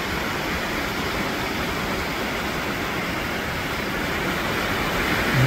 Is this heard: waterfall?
yes